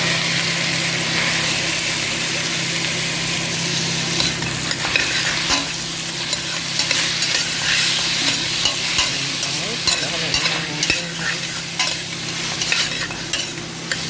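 Tomatoes fry in a pan with a constant loud sizzle, while stirring strokes scrape and clatter intermittently through the middle and end, with a low steady hum beneath.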